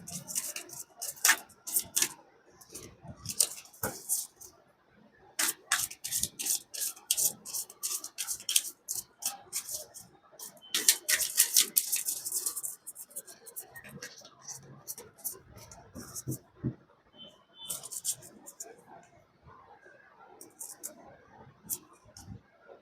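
Tarot cards are shuffled during a Gemini reading, giving repeated crisp close taps and riffling flurries in irregular bursts across the whole stretch, under intermittent soft talk.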